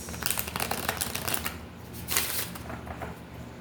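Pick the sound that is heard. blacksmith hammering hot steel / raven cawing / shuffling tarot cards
shuffling tarot cards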